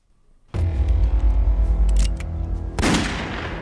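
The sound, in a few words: warning gunshot in a film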